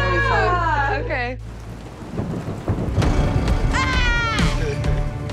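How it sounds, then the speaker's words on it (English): Heavy rain pours down on a farm in a dense, loud roar, with a rumble of thunder and a couple of high-pitched voices calling out over it. "It is coming down now."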